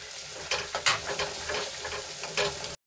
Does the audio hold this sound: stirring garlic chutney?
yes